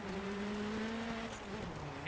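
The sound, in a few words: damaged rally car engine in Dirt Rally video game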